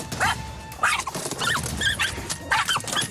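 A small, stressed, unfriendly dog at an animal rescue shelter whimpers and lets out repeated high yips close by, in short irregular bursts with faint voices nearby.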